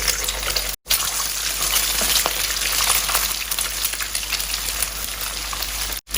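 Egg frying in 3-4 tablespoons of hot oil in a large pan for fried rice, a loud, steady crackling sizzle running throughout with two very brief dropouts and no talking.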